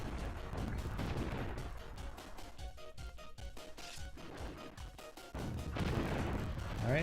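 Flat cannon and homing missile fire from a PS1 shooter during a boss fight, a dense run of rapid repeated shots and blasts that thins briefly in the middle, then surges loud again with a rising tonal sweep at the end.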